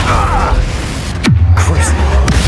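A Confringo fire spell blasts in Hogwarts Legacy, one sharp booming explosion landing mid-clip with a falling low rumble after it, loud over busy battle noise and shouted voices.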